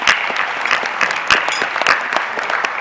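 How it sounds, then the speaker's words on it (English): Audience applause at a 2013 business awards ceremony, a steady dense wash of many hands clapping with no voices over it. "They deserve a round of applause as well."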